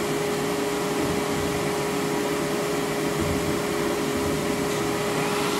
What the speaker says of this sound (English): I'm going to start the force dryer without a nozzle on it so it's not quite so loud